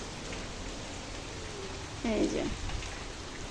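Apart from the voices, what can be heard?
rain falling during Cyclone Remal storm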